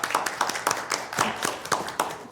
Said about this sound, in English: I would like to do a round of applause to congratulate the new board